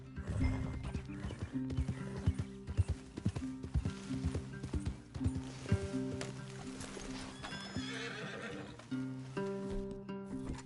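Horses in the Red Dead Redemption 2 epilogue clip-clop steadily and whinny, with hoof beats running through the whole stretch alongside the game's ambient sound and no talk.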